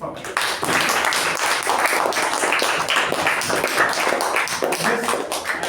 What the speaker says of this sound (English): So let's give a round of applause to ourselves for that.